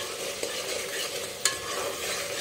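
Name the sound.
tomatoes frying and being stirred in a pan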